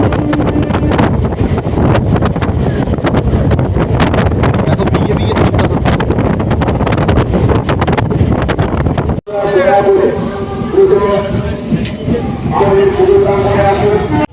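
Ride aboard a Haldia local train out of Howrah, a loud, constant rumble buffeted by wind noise that cuts off abruptly, then resumes with a different rattling texture.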